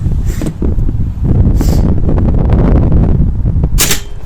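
An air rifle fires pellets outdoors, giving a few sharp cracks, each with a short hissing tail, over heavy wind rumble.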